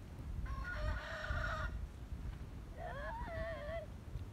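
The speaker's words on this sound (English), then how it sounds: "Sounds like a chicken." A chicken at a medieval centre on Bornholm, Denmark, calling twice in drawn-out clucking, crowing bursts over a steady low background rumble, fairly close with no speech.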